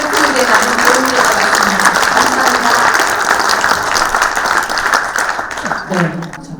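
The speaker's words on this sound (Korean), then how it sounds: "정말 여러분들의 박수를 받으니까 힘이 나고 또 이 분위기에 적응이 되는 것 같습니다" Applause from an audience at a healthcare forum, a dense, steady clatter of many hands filling the hall, loud and continuous before tapering slightly near the end, with a voice briefly audible over it.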